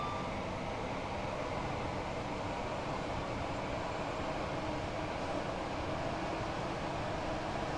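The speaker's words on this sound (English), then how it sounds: "Oh, this is a big train." A big train rumbles steadily along the East Coast Main Line toward Doncaster in Train Sim World 4, a continuous even drone with broad noisy texture, no breaks or distinct clacks.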